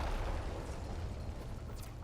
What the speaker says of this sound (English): There should be useful detritus falling from the explosion.